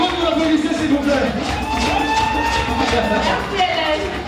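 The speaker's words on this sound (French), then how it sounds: "Si c'est pour Yvonne, vous l'applaudissez s'il vous plaît." An audience at a televised contest cheers and claps for a contestant, a steady crowd roar with whoops and raised voices rising over it, continuous and fairly loud throughout.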